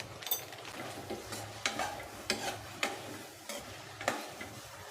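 Cauliflower is sautéed in a pan with garam masala and chilli powder for a cauliflower peas biryani, a spoon clacking and scraping at a regular pace over a soft sizzle, close and fairly quiet with no speech.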